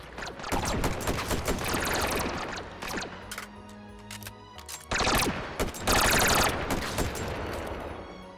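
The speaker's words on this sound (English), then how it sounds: "You're shooting at me." Rapid bursts of automatic gunfire aimed at the player in the VR shooter Hot Dogs, Horseshoes & Hand Grenades, loud and dense, with a brief lull before heavier volleys resume.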